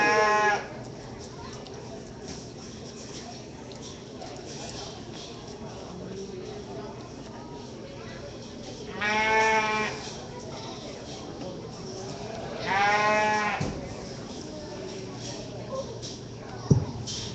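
Sheep bleating at a county fair sheep and goat show, with three or four wavering bleats spread through the clip over a steady buzz of crowd and arena chatter, plus one sharp knock near the end.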